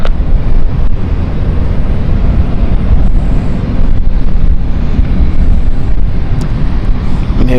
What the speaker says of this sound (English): Luxair going to Luxembourg here, taking off with the Dash 8